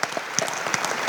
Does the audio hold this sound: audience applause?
yes